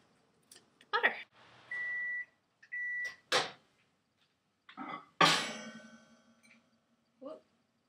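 Kitchen sounds: a microwave oven melting chocolate and butter beeps twice with short tones, mixed with clanks and a door-like thump, quiet and close.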